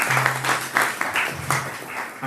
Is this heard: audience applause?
yes